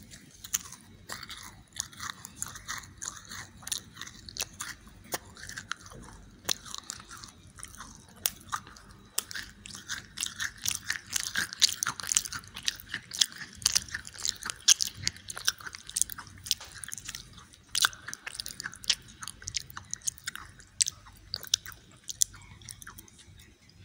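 Crunchy bites and steady chewing of an orange-flavoured macaron, close and fairly quiet, with repeated crisp crunches and soft mouth sounds that grow busier in the middle before easing off, with no talking.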